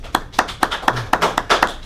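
A small group gives a smattering of applause, about a dozen sharp claps in a brief, uneven burst, close and clear with no talk.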